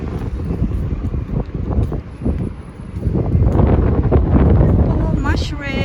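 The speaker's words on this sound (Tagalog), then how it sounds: "Mahangin na sa labas." Wind blusters outdoors on a cold, sunny day in Dubai, with gusty low rumbling against the microphone that swells toward the end while a person talks nearby.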